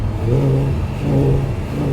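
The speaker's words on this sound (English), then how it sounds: "I go into sport mode, which loudens the exhaust." A 2014 Audi R8 Spyder in sport mode revs its exhaust in two short throttle blips, a close, throaty engine note rising and falling with no talk over it.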